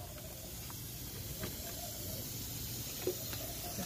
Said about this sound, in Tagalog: May singaw po yung o-ring.